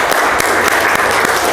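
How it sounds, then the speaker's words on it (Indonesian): A room full of people clapping for Andra, a short dense burst of applause close by and loud, with no talking over it. "Kasih aplaus untuk Andra dulu"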